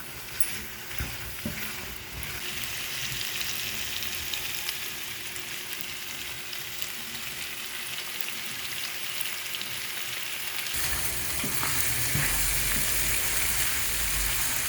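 Chicken frying and roasting with dry masala in a pan gives a continuous, even sizzle. Soft stirring scrapes join it, and the sizzle turns louder and brighter toward the end.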